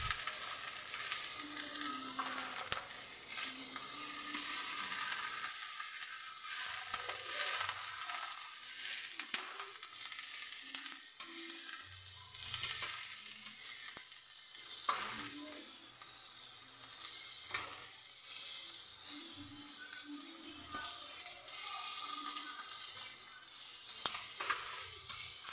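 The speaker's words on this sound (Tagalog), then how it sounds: "konting gisa-gisa lang at ilagay na natin yung ating mga gulay. I-mix lang natin ito." Vegetables, shrimp and broccoli stir-frying in a pan, with a constant bright sizzle broken by repeated scraping and clattering of a utensil tossing the food, close and continuous for the whole stretch.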